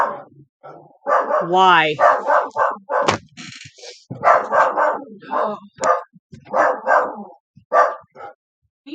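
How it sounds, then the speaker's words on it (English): A dog barks and yips repeatedly, in short bursts mixed with whiny vocal sounds, close and fairly loud, while a person talks over it. "Why are you barking?"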